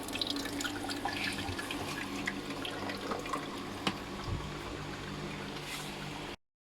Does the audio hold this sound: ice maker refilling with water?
yes